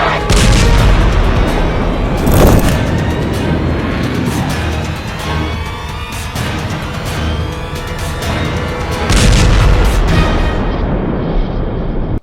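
Explosions and artillery fire in Iran, heavy rumbling booms and dense crackling blasts rolling continuously, with strong surges around a few points, loud and close without speech.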